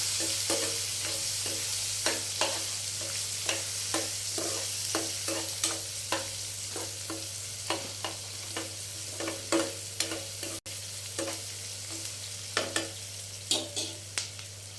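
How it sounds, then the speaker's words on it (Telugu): Sliced onion and slit green chillies sizzle steadily in a pan, with a long run of sharp spatula scrapes and taps at an irregular, fairly quick rhythm, close and clear, no voices. "ఉల్లిపాయ ఒక పెద్ద సైజు ఉల్లిపాయ రెండు పచ్చిమిర్చి చీలికలు వేసుకుందామండి అవి ఎర్రగా వేయించుకుందాం"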